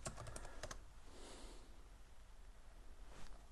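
Close, quiet keystrokes on a computer keyboard: a quick burst of typing at the start, a pause with soft breathing or rustle, then a final keypress.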